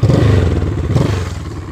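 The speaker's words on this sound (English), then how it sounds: "Sweet little exhaust note." A 1968 Honda CL350 Scrambler motorcycle running with a steady, low rumbling exhaust note, close and loud, holding an even idle-like pulse with a slight swell midway and no talking.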